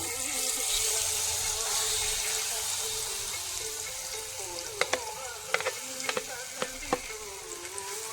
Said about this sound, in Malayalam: അതിലേക്ക് കട്ട് ചെയ്ത് വച്ചിരിക്കുന്ന പഴുത്ത ചക്ക ചേർത്ത് കൊടുക്കാം.